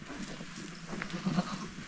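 A goat bleats once or twice at close range on a homestead as kidding season nears, short nasal cries over a faint background hum with no talking.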